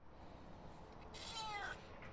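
A cat meows once in a short, clear call that rises out of steady background hiss, fairly close and with no speech around it.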